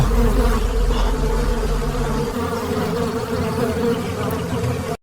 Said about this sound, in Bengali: দেখেন বন্ধুরা, ওই গাছের ডালে একটা বড় মৌচাক আছে। আজকে মধু সংগ্রহ করার চেষ্টা করব।